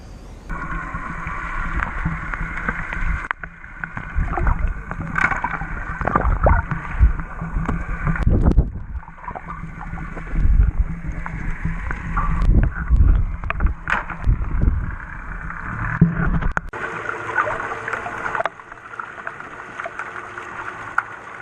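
A boat travels around an island, its hull sloshing and gurgling through the water under steady wind buffeting the microphone, with louder splashes rising and falling throughout a long stretch.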